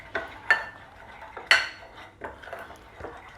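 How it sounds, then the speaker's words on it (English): Ketchup, bread pieces, milk, salt, pepper and Worcestershire sauce being mixed into ground beef for pub-style burgers, heard as a handful of sharp clinks and scrapes of utensils against a bowl at an uneven pace, close up with no talking. "we're gonna combine some of them with the ground beef"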